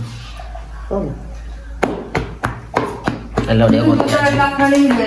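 Sharp chopping knocks from a kitchen in Jaffna, where coconut is being prepared, arrive in an irregular run of close, loud strikes, partly under conversation and background household noise.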